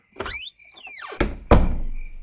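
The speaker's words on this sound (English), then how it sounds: "Matt closed his door." A door closing in a horror podcast, a solid thunk followed by a heavier latch thud, close and clear over a tonal swooping effect.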